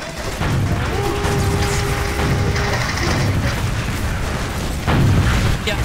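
Rocket jump explosions in Team Fortress 2: repeated loud booms and blasts over dense game noise, with a strong burst near the end.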